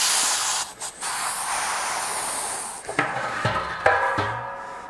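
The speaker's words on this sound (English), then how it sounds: "and the pressure will release." Pressure vents from the lid of a Marchisio variable capacity wine tank in a strong, close hiss with a brief dip partway through, then fades into a few sharp metallic knocks and clinks.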